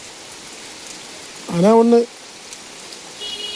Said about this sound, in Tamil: இங்கே தான் மழை பெய்துகிட்டே இருக்குது.